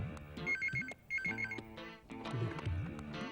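A telephone rings in bursts of bright trilling bell tones, two short rings and then a third, heard indoors in a Hindi TV drama scene over a soft musical background.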